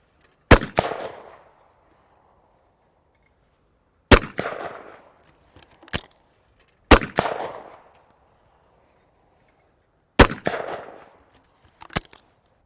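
Shotgun fired at clay targets on a sporting clays stand, four loud separate blasts a few seconds apart, each followed by a short echo tail, with a couple of fainter thuds between them and no talking.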